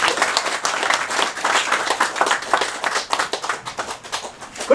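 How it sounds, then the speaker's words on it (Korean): An audience at a Korean political lecture claps steadily and densely for several seconds, a crowd of hands close and continuous. "박수 한번 쳐주시기 바랍니다"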